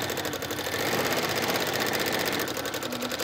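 A sewing machine stitches embroidery onto a denim shirt, running in a fast, continuous rhythmic clatter close up, with no talking.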